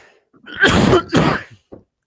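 A person coughs twice in quick succession, close and loud, the first cough rougher and longer, followed by a brief throaty sound.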